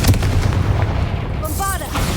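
A booming fire-spell blast from the Confringo spell in Hogwarts Legacy erupts with a heavy rumbling impact, followed by a short fizzing, whistling magical tail.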